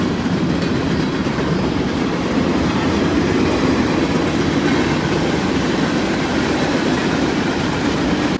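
A train rumbles past very close to a campground, loud and continuous, with steady wheel noise on the rails filling the whole stretch.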